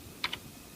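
Two quick keystrokes tap on a computer keyboard while typing a terminal command to set up a ham radio repeater, crisp and close against a quiet room background.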